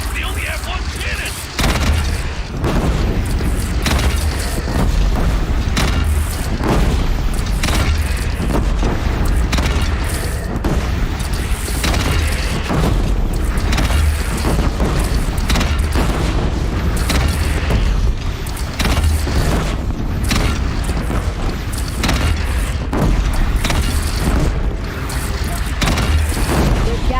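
Cannon fire and explosions rage through a Horizon Zero Dawn battle against a bandit clan, a dense, continuous barrage of booming blasts and rumble, with voices talking over the din.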